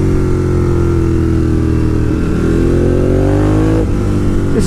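A Ducati Monster 1200 motorcycle being ridden, its engine droning loud and steady at close range, pitch climbing and dipping as the throttle changes, with a brief shift near the end.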